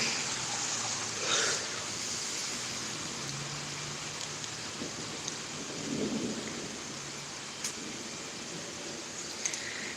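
A thunderstorm in Pittsburg, Kansas brings steady, heavy rain that hisses continuously, while low thunder rumbles softly beneath it at intervals and a few drops tap close by.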